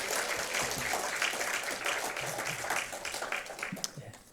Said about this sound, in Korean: 우리 한번 수고했다고 격려의 박수도 한번 부탁드리겠습니다